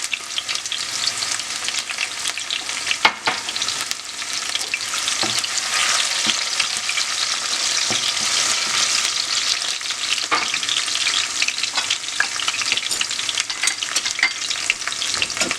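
Onions and garlic fry in hot oil in a pan with a dense, steady crackling sizzle that runs loud and continuous throughout, broken by occasional sharper pops and stirring scrapes.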